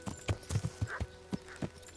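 Hooves of a horse in Kingdom Come: Deliverance clop in a quick, uneven series of close, dull thuds, with a short soft whinny in the middle.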